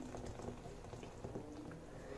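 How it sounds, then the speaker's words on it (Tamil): Boiling water is poured into a bowl to set up a double boiler while making a caramel vanilla cake. The bubbling, splashing pour sounds close and steady throughout, with no one talking. "ஸோ நான் இன்னொரு ஒரு பவுலில் வந்து நல்லா கொதிக்கிற தண்ணியை சேர்த்துக்கிறேன்."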